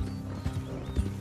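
Horses' hooves clip-clop in a video game, a quick, uneven rhythm of close, dull thuds with no talking over them.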